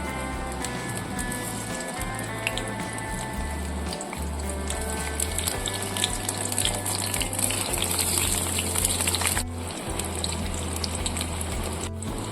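Eggplant coated in turmeric fries lightly in hot mustard oil in a kadai, a steady soft sizzle with a low hum running underneath throughout.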